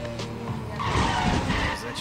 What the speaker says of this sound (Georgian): რა მაგარი მანქანა ბიჭო ამას უყურებდო